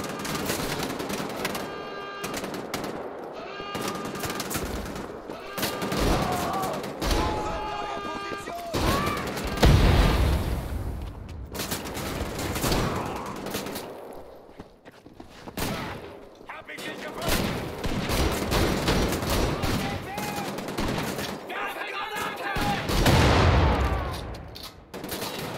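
Bursts of gunfire from the video game Wolfenstein: The Old Blood crack repeatedly at Castle Wolfenstein amid game sound and music, with a person talking over much of it.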